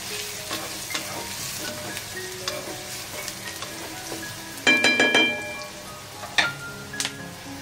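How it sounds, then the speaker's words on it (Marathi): Onion fries in a large kadhai with a steady soft sizzle, stirred now and then, with a few sharp clinks of a metal spoon against the pan. "कांदा छान असा लाल होऊन द्यायचा।"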